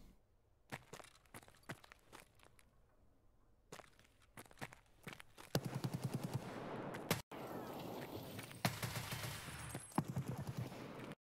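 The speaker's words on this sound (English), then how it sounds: "And like here, we hear him shoot. It doesn't sound too quick." Gunfire in Escape from Tarkov, likely from an enemy's SKS, heard as a series of sharp, moderately spaced single shots, not rapid, building into louder dense firing with footsteps among the bursts.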